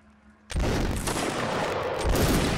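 Musket volley from Napoleonic line infantry in a battle game, erupting suddenly as a loud, dense crackle of many shots that keeps rolling on for about two seconds after a quiet start.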